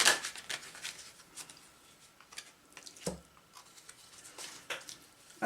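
Tarot cards are handled and moved on a table, giving soft papery flicks, slides and small taps scattered irregularly, with a sharper burst of shuffling at the start.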